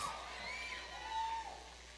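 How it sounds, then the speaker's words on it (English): A pageant audience at the Miss Caribbean Culture Pageant claps and cheers with a few whoops and whistles, a faint, distant-sounding crowd rising briefly midway. "keep the applause going"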